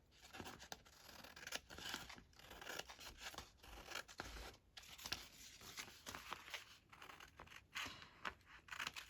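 Scissors snip and rasp repeatedly through a light journal page being trimmed for a medieval-themed junk journal, with steady cutting and rustling of paper close by and no talking.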